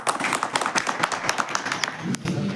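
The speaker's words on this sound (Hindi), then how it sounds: "उनका भी एक बार जोरदार तालियों से स्वागत" A crowd at a party workers' meeting claps to welcome senior party workers, a brisk, fairly faint patter of applause with some voices underneath.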